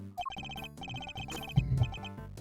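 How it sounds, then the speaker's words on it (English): A mobile phone ringing with a bright repeating electronic melody, close and fairly quiet, with a low rumble joining near the end. "That's my phone going off, I'm sorry, Coco."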